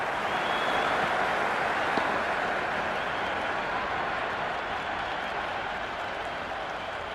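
Cricket crowd in the Cricket 26 video game applauds and cheers after a boundary during a Pakistan versus New Zealand T10 match, a broad steady roar of clapping that slowly fades, with commentary voices mixed in.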